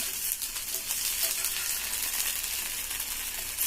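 Thin potato slices shallow-fry in a pan with a little oil for crispy chips, giving a steady, close hiss of sizzling that holds evenly throughout without any voices.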